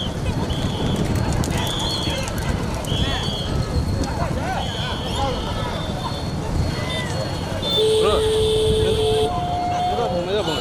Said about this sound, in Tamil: மாடு உடஞ்சி வருது பாருங்க